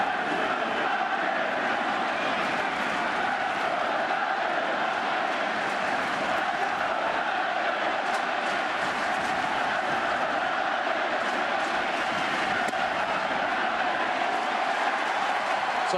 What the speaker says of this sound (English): It's like a soccer crowd here in San Francisco